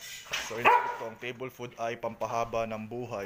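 A dog barks loudly at home, the sharp bark landing near the start and partly buried under continuous talking from a man close by.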